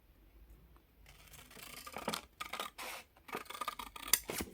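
Scissors snipping through paper along a marked line while making a junk journal: soft, close, intermittent cutting and rubbing strokes, faint and irregular, with no voices.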